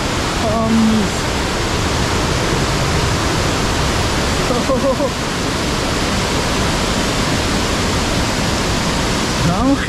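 Rachkha waterfall roaring as a loud, steady, broadband rush of falling water, close and unbroken throughout, with faint voices briefly audible beneath it.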